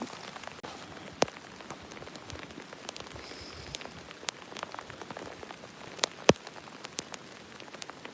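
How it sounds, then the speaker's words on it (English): Rain falls outside near an apartment courtyard, a quiet, even hiss of drops with scattered sharper taps of individual drops on a surface, no talking. "Rainy."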